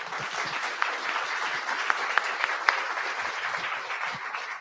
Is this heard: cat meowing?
no